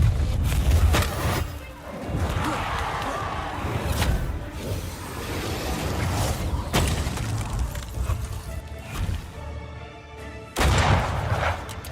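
Gunfire and booming blasts from a fight in the video game Banishers: Ghosts of New Eden, repeated heavy shots with whooshing effects over a dense, loud bed of game sound, with no talk.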